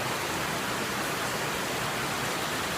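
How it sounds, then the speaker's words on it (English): Heavy rain pours in the Peruvian rainforest along the Rio Yarapa, a dense, constant roaring hiss with no breaks and no talking. "it's raining and it's raining hard."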